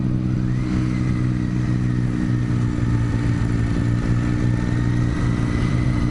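A BMW motorcycle cruising on a road gives a loud, steady engine drone with continuous wind rush, holding an even pitch with no talking.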